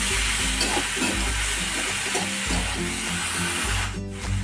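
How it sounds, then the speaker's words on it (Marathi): Green chillies roasting in a pan for a rustic Maharashtrian thecha, with salt added, stirred with a wooden spatula: continuous close sizzling under repeated scraping and rubbing strokes, no talking. "मिरच्या भाजलेल्या आहेत"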